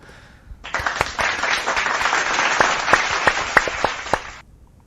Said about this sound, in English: let's give a round of applause to everyone